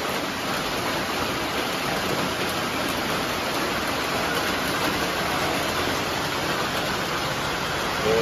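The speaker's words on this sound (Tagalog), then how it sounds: "It's raining man." Rain falls as a dense, unbroken hiss that holds steady and fairly loud for about eight seconds with no voices over it.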